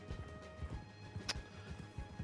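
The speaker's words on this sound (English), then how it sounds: "Why is my horse is doing a crazy thing over here?" Horse hooves clip-clop steadily in Red Dead Online, a dense run of close, thudding footfalls over a continuous game-ambience bed with a brief bright crash partway through.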